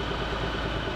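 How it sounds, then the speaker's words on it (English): A 2018 Chrysler Pacifica Hybrid Touring L engine idles with a low, even rumble, steady and close. "The engine's running."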